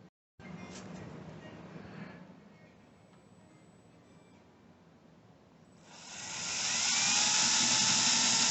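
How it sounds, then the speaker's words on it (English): A small drill bores a starter hole for a siderail screw on a Bally Globetrotters pinball machine, whining softly at first and then rising into a loud, sustained high-pitched drilling. "it's just a matter of using a little starter drill"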